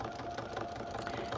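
A home sewing machine stitching corner to corner across a cat quilt block, its motor running steadily and fairly quietly throughout with a continuous mechanical hum.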